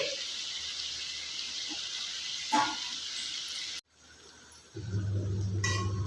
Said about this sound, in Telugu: చూడండి నిదానంగా వేగుతుంటుంది.